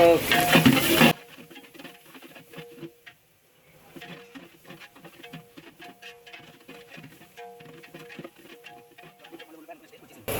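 Onions softening in a pan for a restaurant-style carrot fry, with soft stirring scrapes and light sizzling running steadily at low level after a brief loud burst at the start.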